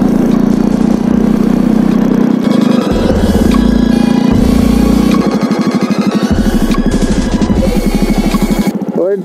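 A Jawa 42 motorcycle engine while riding in first gear, a loud close, steady throaty rumble that rises and drops in pitch as the throttle changes.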